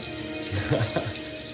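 Tap water runs steadily into a kitchen sink for hand washing, a loud, continuous close-up rush broken by faint clatter in the middle.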